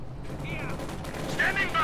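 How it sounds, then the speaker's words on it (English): Submachine gun fire from PPSh-41s carried by shock troops in the strategy game Company of Heroes 2 rattles in quick bursts under a caster's commentary. "shock troops are moving in with their submachine guns, their PPH-41s"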